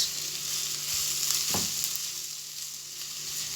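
Onion sautéing lightly in a pan gives a steady, close hiss of frying, with a brief scrape of stirring midway and no voices.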